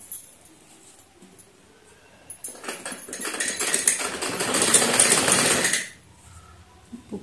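Sewing machine running a seam on a Patiala salwar, a continuous whirring burst of about three and a half seconds that swells and then stops, with quiet handling before and after.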